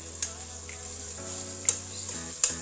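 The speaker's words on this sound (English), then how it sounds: "My onions and chilies are braising now, and I'll just add in 1 tablespoon of garlic" Onions and chilies braising in a pan for a butternut and beef stew, with garlic going in: a steady low sizzle and frying hiss throughout, broken by three sharp clicks of a utensil against the pan, no talking.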